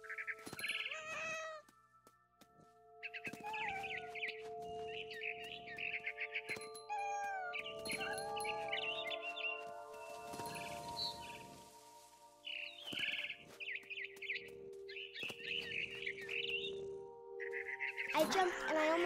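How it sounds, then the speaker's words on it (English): Barn swallow chirping in What Remains of Edith Finch, with bursts of high bird chirps and twitters alternating with cat meows and game tones, heard fairly close against a quiet background. "Then I heard chirping outside my window. It was a barn swallow going back to her nest."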